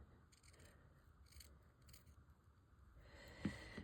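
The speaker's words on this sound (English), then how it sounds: "I'm just going to eyeball cutting a piece." Scissors snip through a piece of lace for a junk journal craft, a few quiet close-up cuts with a soft scrape, then a sharper snip near the end, heard with no talking.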